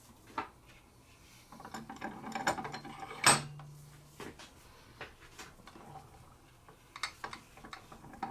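A Winchester 1400 shotgun choke tube is being unscrewed, giving faint metallic clicks and scraping with one sharp ringing metal knock partway through, all close up in a quiet room.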